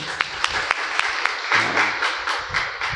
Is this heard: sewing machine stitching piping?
no